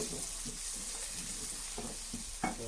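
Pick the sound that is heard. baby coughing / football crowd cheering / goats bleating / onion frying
onion frying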